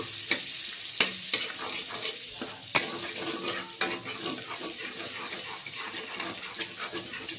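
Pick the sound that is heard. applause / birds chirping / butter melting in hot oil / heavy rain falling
butter melting in hot oil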